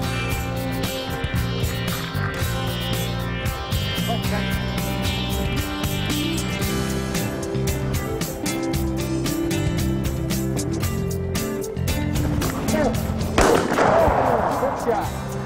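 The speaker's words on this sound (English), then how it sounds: "That was a great shot, Bill." A shotgun fires once during a Georgia quail hunt. The single loud, sharp blast comes near the end, over a steady bed of music.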